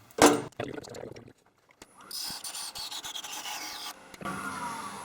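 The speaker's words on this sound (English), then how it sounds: "I'm just going to sand it on a disc sander to the right depth to get it to fit in the thing" A wooden toothpick holder is pressed against a running disc sander, giving a loud abrasive rasp in bursts after a brief voice and some handling knocks near the start, close to the machine.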